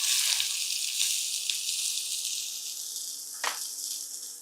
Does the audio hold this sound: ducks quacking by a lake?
no